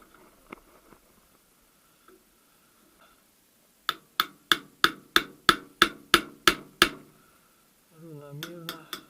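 Evenly spaced hammer blows driving parts into place during a VAZ 2108-2115 manual gearbox repair: about eleven sharp, close metallic strikes in a steady rhythm, then someone speaks alongside a few lighter taps.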